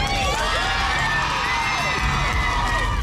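Crowd outside the courthouse cheers the Jerry Sandusky guilty verdict, a dense, steady roar of shouts and whoops that holds at full strength for the whole stretch.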